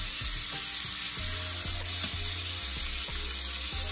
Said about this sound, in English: I like to sear it first.